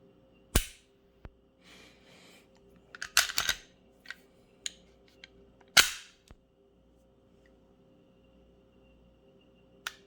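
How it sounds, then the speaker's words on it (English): Pistol being dry fired: a few sharp, isolated mechanical clicks and snaps, close and crisp, spaced irregularly over near silence with a faint low hum, and no talking. "The trigger on this is, I mean, it feels amazing when you're dry firing."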